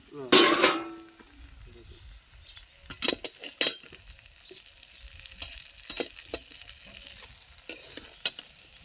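Poha frying in a pan and being stirred, with a loud scrape at the start, then a quiet sizzle under repeated sharp clinks and scrapes of a spoon against metal.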